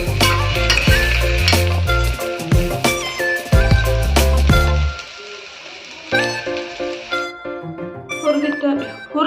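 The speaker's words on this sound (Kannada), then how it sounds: "ಜೀರಿಗೆ, ಸೋಂಪು, ಏಲಕ್ಕಿ, ಲವಂಗ. ಚೆನ್ನಾಗಿ ಹುರ್ಕೊಳ್ಳಿ." Cumin, fennel, cardamom and cloves crackle and sizzle as they roast in a pan for a nati-style mutton curry, with scraping stirs and clinks under a person talking, busier at first then calmer.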